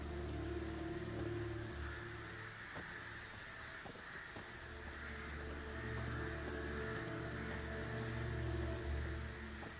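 Steady rain patters on a surface with low background ambience in The Witcher 3: Wild Hunt, while a crow caws once or twice in the distance.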